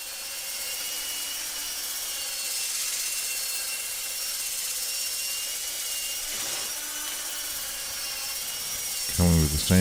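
Steady hissing scrape of a bowl gouge cutting a poplar bowl on a lathe, continuous and close, with a brief knock near the end.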